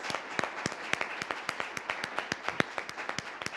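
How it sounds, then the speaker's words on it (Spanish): A small audience at a judicial electoral forum claps steadily for a few seconds, distinct individual claps in a loose rhythm, fairly faint and distant. "les damos un aplauso por habernos compartido"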